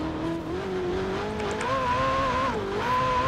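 A stock 2019 Ferrari 488 Pista in Forza Horizon 4 drones steadily, its engine pitch climbing and dipping with gear changes, a continuous mid-volume racing-game engine tone with no talk over it.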